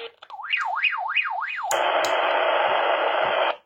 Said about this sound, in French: Si je déclenche l'alarme, je vais faire très rapidement pour pas gêner.